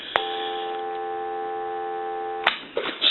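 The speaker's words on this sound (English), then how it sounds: "I'm going to reach in and give you some dial tone." Steady telephone dial tone from a repaired Teleconcept clear transparent phone, a continuous multi-tone hum held for over two seconds, then cut off by a click and handling noise.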